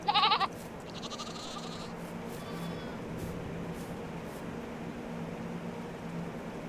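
A young female goat bleats on a Farming Simulator 22 farm, one loud brief bleat at the start followed by fainter bleats over a steady ambient farm background hum.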